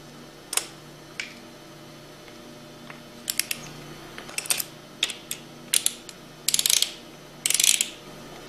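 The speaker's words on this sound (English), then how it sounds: "Torque the bolts to 40 foot-pounds." Torque wrench ratcheting while tightening bolts on a Hypro 2535S piston pump: a series of sharp mechanical clicks, sparse at first then clustering into quick rapid bursts, close by with a steady low hum beneath.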